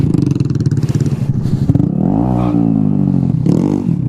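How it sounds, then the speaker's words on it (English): A Honda Grom motorcycle revs hard in a parking lot, its loud near engine rising and falling through several sharp throttle blips. "we like tearing up manuals in parking lots, and Groms are better equipped for that"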